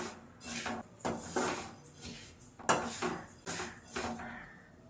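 A utensil repeatedly scrapes and knocks against a pan while sesame seeds or flaxseeds fry over a low flame for homemade laddus, in a steady series of close, sharp clatters with no voices.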